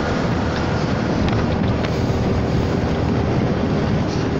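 Heavy, loud wind roar buffets steadily while riding a Honda Forza 300 scooter in traffic, a dense continuous rush with faint engine drone underneath and no talking.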